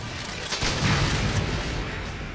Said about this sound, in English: Those explosions are great.